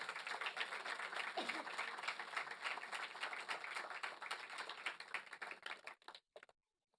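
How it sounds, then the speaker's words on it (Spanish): A church congregation applauds during a Spanish-language service, a faint, dense patter of many hands clapping steadily from a distance before it thins out and stops near the end. "Yo creo que eso se merece una ofrenda de palmas para ellos."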